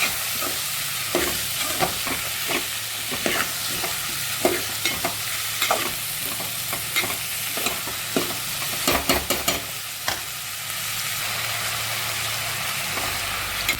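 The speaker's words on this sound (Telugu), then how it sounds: "వంకాయలు అయితే వేసుకున్నాక ఒకసారి కలుపుకొని స్టవ్ సిమ్లో పెట్టుకొని" White brinjal and tomato curry is stirred in a pan while it fries, a steady sizzle under repeated scraping stirring strokes throughout.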